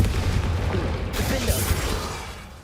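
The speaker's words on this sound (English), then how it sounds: "Confringo!" A Confringo spell blast in Hogwarts Legacy: a loud, dense, rumbling explosive roar that fills the whole moment and swells again partway through, backed by other game sounds.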